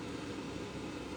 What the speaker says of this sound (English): You can hear a fan running right now.